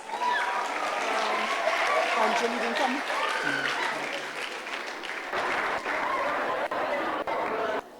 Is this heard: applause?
yes